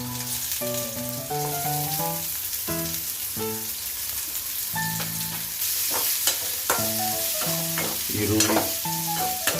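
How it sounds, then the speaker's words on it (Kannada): Chopped onions frying in oil in a pan, a steady close sizzle with frequent stirring scrapes, while tonal music plays throughout. "ಕಂದು ಬಣ್ಣ ಬರುವ ಹಾಗೆ ಹುರಿಯಬೇಕು"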